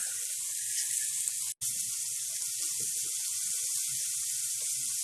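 Pork pieces sear in hot oil in a pan, a steady soft hiss with small crackles and pops, one brief gap in the middle, no voices.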